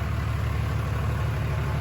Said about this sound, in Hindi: गाड़ी स्टार्ट हो गई है, इंजन का साउंड भी सुन ले जाते जाते